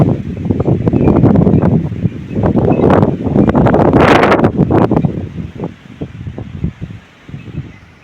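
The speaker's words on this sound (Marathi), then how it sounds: "बघा वारा किती लागतोय." Wind gusting across open farm fields beside paddy bunds where people sit for a meal, a steady rushing roar that swells and buffets the microphone, loud and close throughout.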